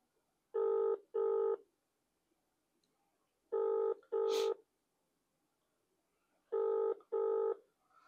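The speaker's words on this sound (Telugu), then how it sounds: "రింగ్ అయితా ఉన్నది." Telephone ringback tone on a phone call, heard as three pairs of double rings spaced about three seconds apart, loud and clear with near silence between them and no talk.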